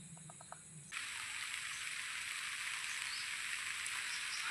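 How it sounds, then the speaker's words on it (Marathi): Heavy monsoon rain in the Konkan countryside, heard while sheltering under a tree: after a brief quiet opening with a few faint tones, a steady, dense hiss of falling rain sets in and continues evenly to the end, with no talking. "पाऊस जास्त झाला तू."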